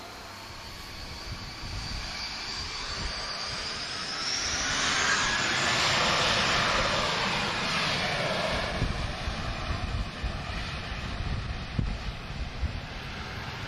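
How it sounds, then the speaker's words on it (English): A jet airliner with V2500 series engines at Lisbon Airport, a broad roaring rumble swelling to a peak mid-way then easing, heard outdoors through steady wind buffeting on the microphone. "That's a V2500 series engine."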